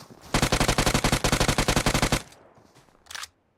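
Rapid automatic gunfire in the battle royale game Free Fire, a loud sustained burst of about twenty evenly spaced shots, then a short pause and one faint distant shot.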